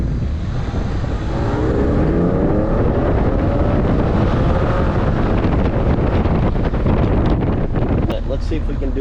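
Inside a Porsche 996, a steady loud engine roar builds under heavy wind buffeting against the windscreen, with a shift-like break near the end.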